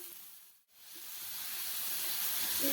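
Tomatoes sauté in a pan for shev bhaji, giving a loud, close, steady hissing sizzle that drops out for a moment, then swells back and builds.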